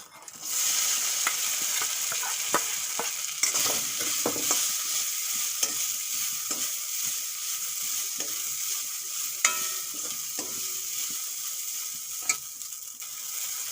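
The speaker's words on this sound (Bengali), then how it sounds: "এখন ভিজিয়ে রাখা সাবুদানাগুলো একটু ঘিতে ভেজে নেব" Soaked sago pearls fry in ghee in a pan. A steady sizzle carries through, broken by repeated scraping and stirring strokes and utensil knocks, with no talking.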